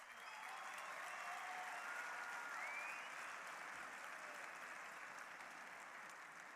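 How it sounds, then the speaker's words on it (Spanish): A large audience at the Madrid Economic Forum gives sustained, dense applause for professor Alberto Benegas Lynch, a continuous wash of clapping with faint whistles rising above it. "Aplauso para el profesor, sí."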